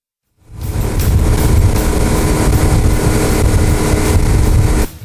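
A motorboat towing a water skier on a river or lake in summer, its engine a loud, steady roar close by that starts abruptly and holds at full power for several seconds.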